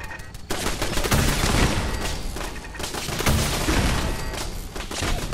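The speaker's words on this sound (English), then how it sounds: "I think it's time we pull out the rocket launcher" Rapid explosive blasts from a rocket launcher in the video game Fallout 4, loud and dense, with repeated booms and crackling gunfire-like bursts filling the whole stretch.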